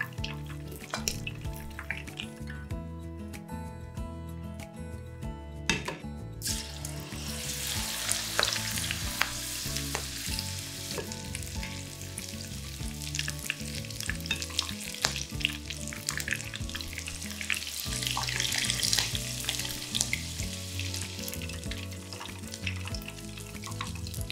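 Prawn fritters sizzle steadily in deep oil for a long stretch, a close, continuous crackle with occasional pops and brief clinks, no voices.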